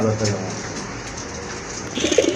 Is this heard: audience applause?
no